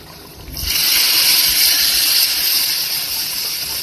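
Spices hit hot oil for tempering: a loud, steady sizzle bursts in after a brief quieter moment and holds as a broad hiss, fading slightly toward the end.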